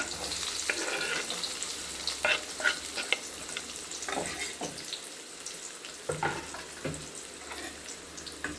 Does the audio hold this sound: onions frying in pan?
yes